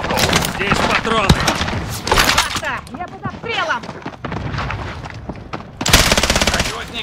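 Rapid machine gun fire in Call of Duty Warzone Pacific, loud close bursts mixed with other gunfire and voices talking, ending in a heavy sustained burst.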